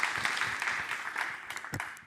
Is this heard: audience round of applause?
yes